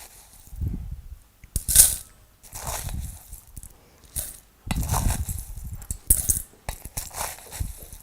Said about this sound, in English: And now you use your spoon for the lye.